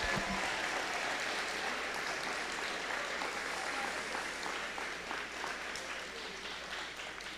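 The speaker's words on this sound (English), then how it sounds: "So if we could give them another round of applause." Applause from an audience at a Board of Education meeting, recognising the music department: sustained, fairly faint clapping that fades slightly toward the end, heard alone.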